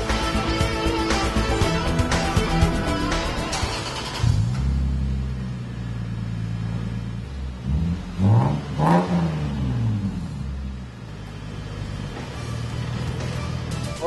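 Car fitted with a custom 2.5-inch stainless cat-back exhaust and Thermal R&D muffler, engine idling with a steady rumble, then revved in several throttle blips that rise and fall before settling back to idle.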